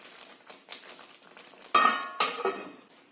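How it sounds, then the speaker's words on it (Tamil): A spoon scrapes and clinks against a metal pan while curry leaves thokku is stirred, soft scraping strokes followed by a couple of louder metallic knocks, close and without talk. "ரொம்ப கேர்ஃபுல்லாக கலக்கிட்டே இருக்கணும்."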